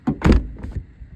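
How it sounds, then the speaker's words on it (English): A car door opening, on a vehicle whose battery and door switch are being replaced. A quick sequence of close, sharp clicks and latch thuds, with no talking. "Open the door."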